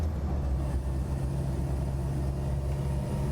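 A restored Land Rover Series IIA idles with a steady low rumble, even and continuous at close range, with no voices over it.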